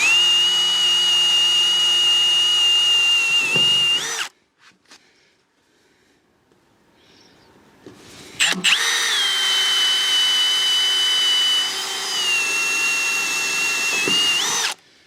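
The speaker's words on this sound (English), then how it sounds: "We don't actually need to pre-drill these holes" A power drill whines steadily as it pre-drills holes through steel cladding sheets on a barn-style shed, stops for a few seconds of near silence, then drills again at length, close by.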